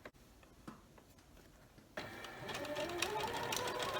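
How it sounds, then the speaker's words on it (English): A sewing machine stitches quilt pieces with a scant quarter-inch seam, starting after a quiet pause with a few faint clicks and then running as a steady close whirring hum to the end. "So here I'm sewing a scant 1/4 inch along each side of the drawn line."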